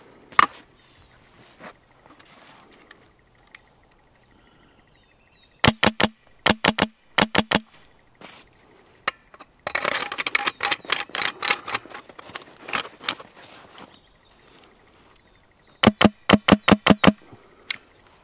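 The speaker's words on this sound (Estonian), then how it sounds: "Teeme ühe võrdluseks ilmasummutite laskmisega." Unsuppressed shots from a Polarstar Fusion Engine air rifle in a Lonex build ring out as sharp, snappy cracks in quick clusters, separated by quieter clicks and handling noise.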